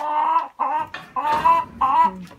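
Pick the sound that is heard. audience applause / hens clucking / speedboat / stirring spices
hens clucking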